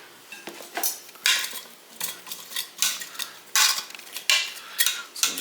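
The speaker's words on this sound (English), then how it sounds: "So just kind of stir them around" Oxtail stew ingredients being stirred in a pot, with a series of close, irregular scraping and clinking strokes of a utensil against the pot, in short bursts with quiet gaps.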